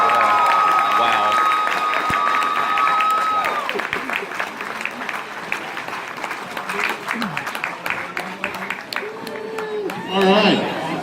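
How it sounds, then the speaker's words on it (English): A convention crowd applauds its special guests with steady, dense clapping that runs several seconds and gradually thins, with scattered cheers and a brief swell near the end. "Let's give a one more round of applause for all of our special guests."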